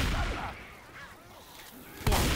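Gunfire from the zombie shooter Left 4 Dead 2 opens with a loud burst, then quieter game ambience, and ends with another sharp blast.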